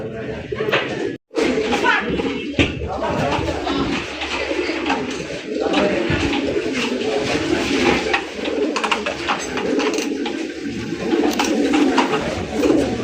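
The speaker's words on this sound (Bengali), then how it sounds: "বড় পায়রা মামা, বড় পায়রা?" Pigeons coo steadily at a pigeon market beneath a constant hubbub of nearby voices and crowd noise, with occasional sharp knocks.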